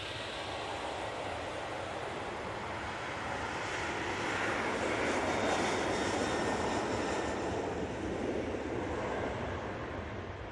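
A Ryanair Boeing 737-800 jet rolls for takeoff at Manchester Airport, its broad engine roar steady and distant at first, then swelling louder and rougher mid-way before holding as it accelerates.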